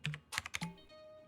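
Quick bursts of keystrokes on a computer keyboard as a price is typed in, several clustered clicks in the first half, then a pause and one final tap, close and fairly quiet.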